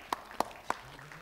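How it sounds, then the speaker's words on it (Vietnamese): On a Vietnamese TV game show, three sharp, separate hand claps ring out at roughly even intervals over a quiet background, sparse rather than a full crowd ovation. "vỗ tay cho bạn cái luôn nha"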